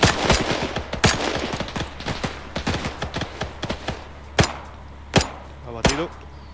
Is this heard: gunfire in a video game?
yes